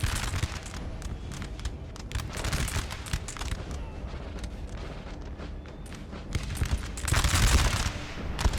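Prolonged musket shootout from Napoleon Total War, a continuous crackle of massed volleys and scattered shots rolling on without pause, swelling louder near the end.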